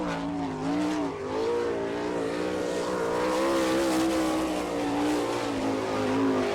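Sprint car with an Eagle chassis running a qualifying lap at Attica, Ohio, in an All Star Circuit of Champions event: a loud, steady engine drone whose pitch rises and falls gently as it carries through the turns, with no talk.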